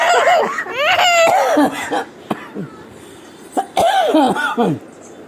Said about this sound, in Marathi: मला खोकलेला.